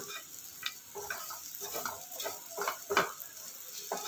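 Sliced bitter gourd frying in a pan with a lid on, a faint, soft sizzle with a series of light scraping and tapping stirs at an uneven rhythm.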